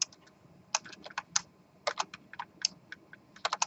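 Rapid, uneven keystrokes clatter on a computer keyboard in a lecture on binary and hex numbers, coming in short bursts with brief pauses between them, fairly close and alone without any speech.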